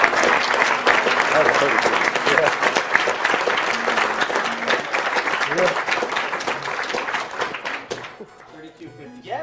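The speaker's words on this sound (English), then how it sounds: "keep the applause going" Dense, steady applause from a live audience after a Mega Man 9 speedrun at a charity gaming marathon, loud and sustained for about eight seconds before fading, with a voice speaking over it.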